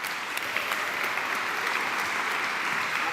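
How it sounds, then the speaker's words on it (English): Conference audience applauding to welcome a speaker at a design software event, a sustained even wash of clapping from a mid-sized crowd in a hall. "please welcome Martin with a applause"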